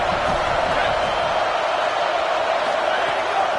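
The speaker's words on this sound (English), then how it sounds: "This crowd ready to make its presence known" Dense, steady roar of a large stadium crowd at a Florida vs Ohio State football game, a continuous wash of massed voices without pause and with no clear individual words.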